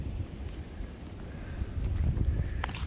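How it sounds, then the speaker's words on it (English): Wind buffets the microphone in low rumbling gusts that build toward the end, with faint knocks and clicks in the background. "It's a little windy."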